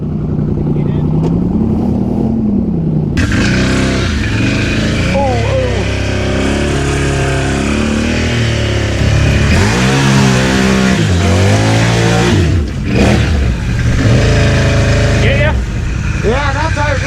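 A Polaris Sportsman 850 Highlifter ATV engine runs nearby, its loud idle rising and falling in repeated revs throughout, while people talk over it.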